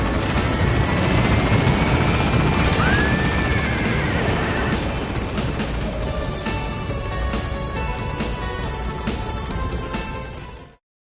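Helicopter rotor thundering loud and close in Metal Gear Solid V as the aircraft climbs, a steady dense roar holding throughout with a rising whine and scattered metallic crashes before cutting off at the end.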